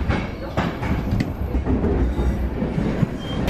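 Inside a carriage on a seven-hour train across Bulgaria, a steady low rumble of wheels on track fills the space, with faint clicks and a light squeal over the continuous moving hum.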